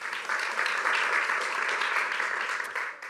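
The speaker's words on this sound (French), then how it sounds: "Bravo, on peut l'applaudir encore une fois" Steady applause from an audience at a graduates' quiz game, rewarding a correct answer, even and moderately loud, tapering off near the end.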